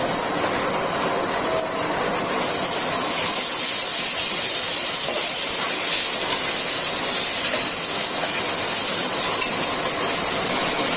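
Ginger paste hits hot oil with fried onions and garlic paste for a restaurant-style broiler chicken bhuna, giving a loud, steady, close sizzling hiss that holds evenly throughout with no speech.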